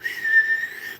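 A single steady, high-pitched steam engine whistle tone holds for about a second, clear and fairly loud, with no other sounds around it.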